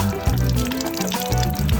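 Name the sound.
water running from a spring spout, Itaparica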